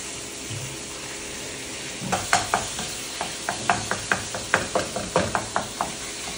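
Beef sizzles in oil in a pan with onion and garlic, a steady frying hiss broken by a run of sharp rhythmic scraping knocks as a utensil stirs the meat.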